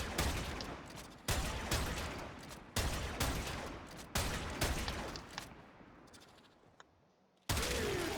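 Loud single gunshots in a shooter video game ring out about five times at irregular intervals, each with a sharp crack and a decaying tail, and there are brief quiet gaps between them.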